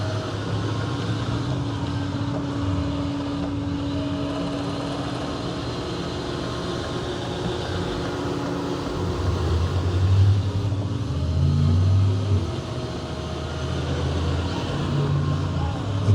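A Roborock Curv 2 robot vacuum and mop combo runs over a floor in mop-only mode, giving a continuous low motor hum that swells and eases as it works a square pattern, nearby and steady.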